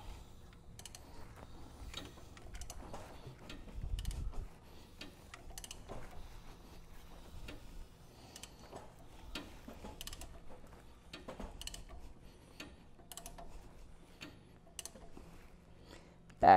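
A ratchet clicks in a quick, steady run of light ticks as it turns the crankshaft of a 1FZ-FE engine through one revolution during a valve clearance check. The clicks are faint and close against a low background hum.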